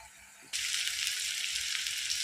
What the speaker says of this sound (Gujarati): આપણે ડુંગળીને ટમેટાને થોડીક વાર ચડવા દઈશું